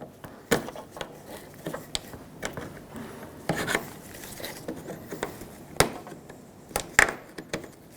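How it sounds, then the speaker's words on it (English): A trim tool prying a plastic push clip out of the rear bumper trim on a 2013-2020 Nissan Pathfinder, heard as close, intermittent scraping, rubbing and sharp plastic clicks and pops spread across the clip. "For this, you can take a trim tool,"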